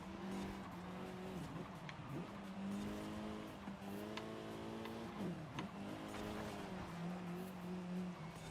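A race car in Forza Horizon 5 roars through a lap, the engine revving up and dropping back in repeated rising sweeps, close and steady, with brief tire squeal and no talking.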